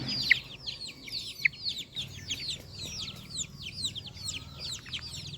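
Backyard chickens raised at home, a cluster of close, rapid high cheeping calls mixed with clucks, repeating busily throughout over a low farmyard background.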